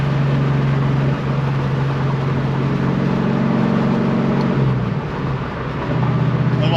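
Coyote V8-swapped 2006 Ford Mustang engine pulls loud and steady in second gear, then drops back near the end, a sustained droning roar with no talking.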